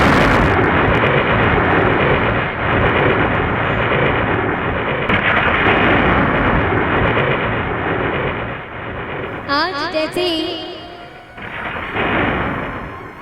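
A loud, rumbling thunder and lightning crash rolls on for many seconds in a dense, booming roar, followed by a brief burst of other noise and a few spoken words near the end.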